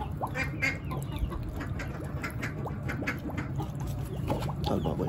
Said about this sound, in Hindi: जो मुर्गे हैं और बतखें हैं वो इधर से पी लेती हैं